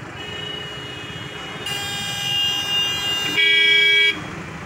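Heavy traffic of buses and cars backs up at a railway crossing while waiting for a train, with a steady engine rumble and several car horns honking, one long loud toot near the end.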